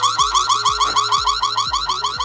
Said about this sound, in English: I think it's an alarm.